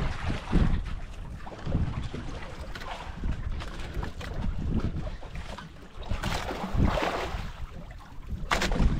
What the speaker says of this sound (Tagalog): Hangin na naman siya.